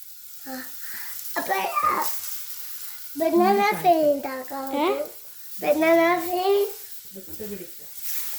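Bananas frying in a pan, a steady sizzle running throughout beneath a voice and a voice speaking in bursts.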